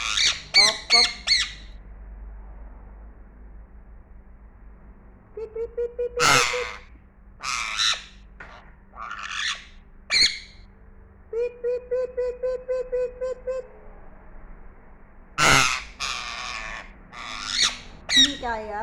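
A parrot sings in a series of sharp squawks, whistled notes and harsh caws, irregular bursts separated by pauses across the clip, close and clear against a quiet background with a steady low hum.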